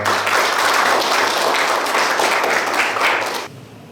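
An indoor audience at a company's tenth-anniversary workshop lecture applauds to welcome a speaker: dense, steady clapping for about three and a half seconds that then drops off sharply.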